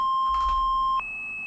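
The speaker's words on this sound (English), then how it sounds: "It's just loud beeps. It's not even music, it's just loud beeps." Within the music of the horror game Alone in the Forest, a loud sustained electronic beep holds for a second, then jumps to a higher steady tone, with a brief rumbling burst underneath.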